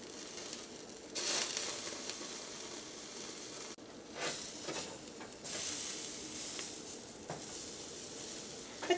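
Chicken grilling on a steel rack over a medium gas stove flame gives a steady, faint sizzle and hiss with a few louder bursts, heard alone without talk.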